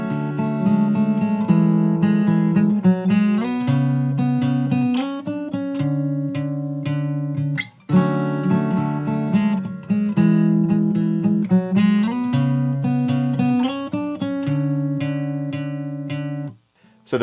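Fingerstyle acoustic guitar plays the bridge of a song, with plucked melodic notes over bass notes, one line repeated twice, close and clear with no talking.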